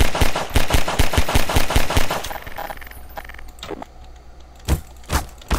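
Rapid automatic gunfire in a Roblox game bursts out in a fast, loud rattle for about two seconds, then thins to scattered, sharper single shots and cracks against quieter background noise, with no talking.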